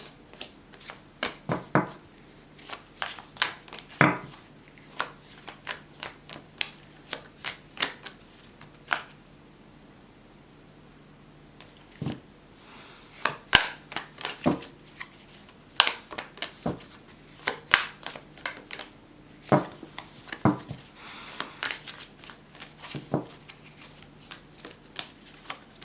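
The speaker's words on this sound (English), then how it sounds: "Just 3 more shuffles." Tarot cards being shuffled by hand in a quiet room, with repeated sharp riffles and soft slaps arriving in bursts and short pauses, close and crisp, with no voices.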